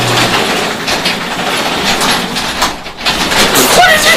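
A Craftsman automatic garage door opener runs with a continuous rattling, clattering mechanical drone close by, steady throughout with slight rises and dips.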